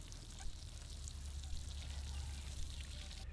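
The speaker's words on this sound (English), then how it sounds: "And I'll just go around and water my plants with it." A watering can sprinkles fertilizer solution over zucchini plants in a garden, producing a steady, soft hiss of trickling water that runs unbroken and fairly faint throughout.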